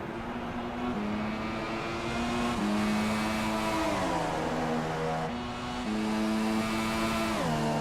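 A racing car screams down the main straight in a racing video game, its engine a loud sustained whine that climbs through each gear and drops sharply at two upshifts, close and continuous with no voices.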